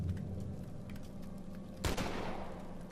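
A sniper rifle shot fired at zombies in The Walking Dead Survival Instinct video game, a single sharp crack with a short decaying tail over a low game ambience.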